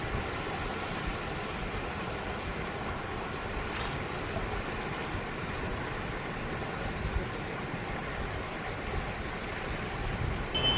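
Fast-flowing Kosi river water in flood, a dense, even rushing roar that stays steady and fairly loud throughout with no pauses or voices.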